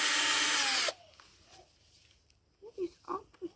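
A power drill whines loudly and steadily for about a second while drilling into wood for homemade crutches, then cuts off, followed by quiet handling noise and brief voices talking.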